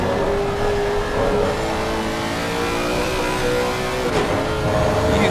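Porsche race car in a racing video game at Monza, engine revving loud and steady throughout, with a brief gear-change blip near the end and no talk.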